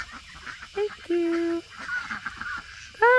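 Several loud, nasal honking calls from waterfowl, in separate bursts with short gaps, close by.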